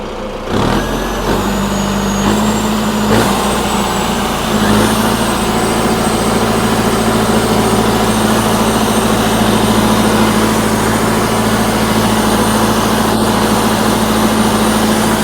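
A turbocharged tractor engine runs loud and close, a steady heavy drone that revs up in the first seconds and then holds a strong, even rumble with a high whine above.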